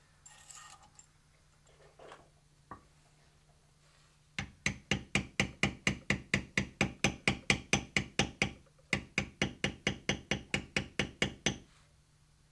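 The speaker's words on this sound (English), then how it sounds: "So I'll bevel around everything at this time, and I use a Mahlmaster 2. This is a 22-ounce round maul" A 22-ounce round maul taps a beveler against leather in quick, even, repeated strikes, a long rhythmic run of sharp knocks with a brief pause midway, close and clear.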